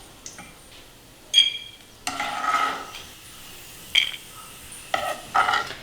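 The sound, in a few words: scooping fried mashed banana from a pan into a bowl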